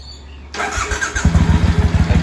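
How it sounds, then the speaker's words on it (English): A 2006 Triumph Bonneville America motorcycle started from cold: a brief starter whir, then the engine catches and settles into a loud, lumpy, rhythmic idle with regular exhaust pulses, close by. "the easiest way to get it started when it's cold is to hit the starter"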